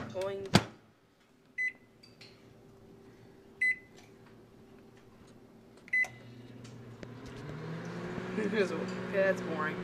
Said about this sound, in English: I'm going to warm it up in the microwave for about 35 seconds